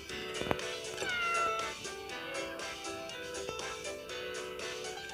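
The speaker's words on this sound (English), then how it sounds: "Find and approach the three kittens in the plaza." Kittens meow in a My Hero Academia video game set in a plaza, with short mewing calls rising over a steady bed of game music that continues throughout.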